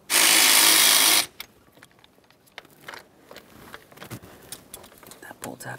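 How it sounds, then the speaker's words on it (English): A 12mm bolt is worked loose from a bracket on a 2007-2013 Acura MDX 3.7L V6. A loud burst from a power tool runs about a second, followed by scattered clicks and metallic handling noises. "We're going to remove the 12mm headed bolt that you can see just down here."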